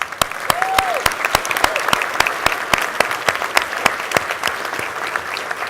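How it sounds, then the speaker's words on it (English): An audience at a digital health startup demo day claps in sustained applause, a dense even patter of many hands from a sizable crowd, steady and fairly loud throughout. "a special round of applause for them"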